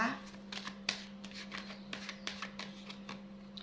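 Tarot cards handled and shuffled up close during a reading, making a run of crisp papery flicks and riffles under soft speech and a low steady hum.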